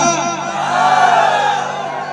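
An audience at a Chhattisgarhi stage show shouts and whoops together in one sustained, loud burst of crowd yelling that swells in the middle.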